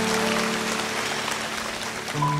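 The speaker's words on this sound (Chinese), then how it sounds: "我们给她鼓掌好不好？" A concert audience at a 2014 oldies star concert applauds, a dense, steady clatter of many hands clapping, somewhat distant, while a faint sustained tone hums underneath.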